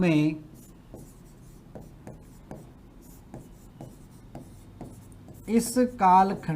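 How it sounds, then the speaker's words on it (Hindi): Chalk or marker writing notes on a board, a run of soft, evenly spaced taps and scratches, with a voice speaking at the start and again near the end. "मैं लिख देता हूं"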